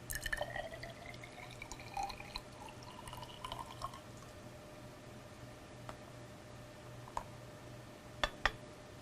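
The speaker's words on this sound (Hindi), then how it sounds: "इसी प्रकार से ब परख नली में भी चूने का पानी लेंगे।" Lime water is poured into a glass test tube, with faint scattered drips and small glassy ticks over a low steady hum in a quiet room.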